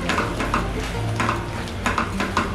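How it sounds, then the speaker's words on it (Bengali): Turmeric and chili powder being stirred in a hot pan for a Bengali eggplant and egg dish, with steady frying sizzle and repeated scraping strokes of a spoon against the metal, close and fairly loud, with no voices. "ভালো করে মিশিয়ে নেওয়ার পরে মশলাটাকে আমি 1 মিনিট এইভাবে নাড়াচাড়া করে নেব"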